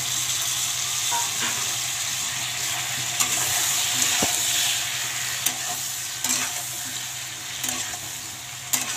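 Eggplant frying with dried fish and onion in a pan, a steady loud sizzle with intermittent scraping and stirring clicks of a spatula throughout.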